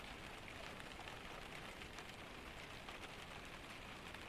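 Steady rain drums on the roof of a cabin in a Scandinavian pine forest during a storm, a soft, even hiss that holds unbroken and fairly quiet throughout.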